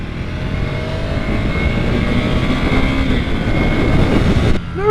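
A 2021 Ducati Scrambler Desert Sled motorcycle engine, thought to be a twin, revs high near the top of its range with a loud, steady droning roar and rising whine, recorded close while riding, no speech.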